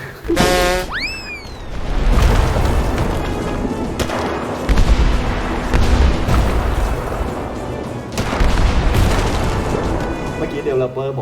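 Loud, dense booms of cannon fire ring out as an airship bombards a merchant ship in the game Airship Academy. The blasts fall in repeated heavy bursts over a continuous rumbling battle din, opening with a springy, swooping effect.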